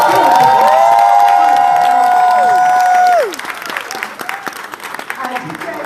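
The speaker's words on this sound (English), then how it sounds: "can you please give them a big round of applause?" A crowd at an event claps and cheers for directors and consultants, loud and full, with whoops and voices over the applause as sustained musical tones fade out about halfway through.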